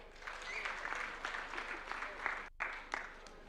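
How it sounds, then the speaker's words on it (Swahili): An audience at a Kenyan political gathering claps to welcome a speaker, a sustained wave of applause with uneven bursts and a brief drop near the middle, with voices mixed in. "Naomba mkaribishe kwa makofi."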